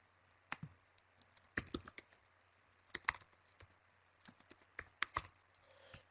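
Typing on a computer keyboard while editing titles in Premiere Pro: scattered, crisp key clicks in irregular clusters, close and fairly quiet over a faint steady hum, with no speech.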